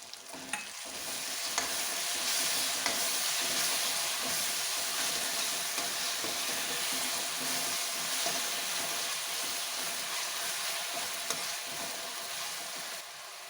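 Chopped tomatoes frying and being stirred with lightly browned onions for a dhaba-style Punjabi dal makhani, giving a steady, close sizzle and hiss with occasional scrapes of stirring throughout.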